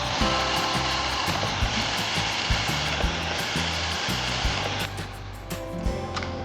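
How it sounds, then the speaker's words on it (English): Steady machine hum from a semi-automatic laser welding station joining pouch battery tabs, with faint repeated clicks and soft rhythmic ticking throughout, and a brief sharper burst of mechanical noise near the end. "Laser welding, with optional handheld laser welding."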